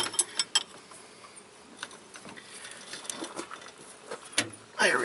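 A wrench working on a bolt on a Honda Ridgeline power steering pump, giving close, scattered metallic clicks and ratcheting taps with a louder scrape near the end, no talking.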